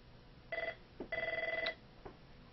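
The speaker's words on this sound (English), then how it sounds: "Sorry, we have another phone call." In an office, a desk telephone rings in two bursts of rapid electronic trills with a short gap between them. A few faint clicks follow, and no one speaks.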